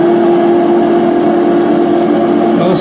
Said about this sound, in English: So now the spindle is running.